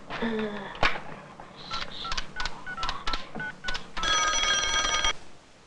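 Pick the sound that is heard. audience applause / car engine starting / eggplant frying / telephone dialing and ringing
telephone dialing and ringing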